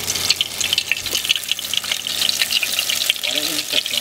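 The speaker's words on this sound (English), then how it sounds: "This is the most important part of the fried ice cream. It's the frying." Fried ice cream bubbles in hot oil, giving off a dense, crackling sizzle that stays steady and close throughout.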